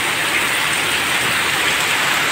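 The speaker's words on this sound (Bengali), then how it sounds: "ওরে ভাই বৃষ্টি রে বৃষ্টি" Heavy rain falls on a veranda as a loud, dense, unbroken roar of drops, close by and steady for the whole stretch, with no voices.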